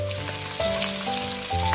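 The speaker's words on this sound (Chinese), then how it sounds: "我们将骨头煎至有点金黄的时候，再将它翻过来煎另一面" Pork bones searing in oil in a pan, a steady close sizzle and crackle with faint background tones, no talking.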